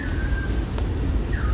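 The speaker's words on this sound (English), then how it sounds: "Somebody's whistling." Someone whistles a thin sustained tone, then a rising whistle near the end, aboard an MSC Meraviglia cruise ship, against steady low background rumble and ambient noise.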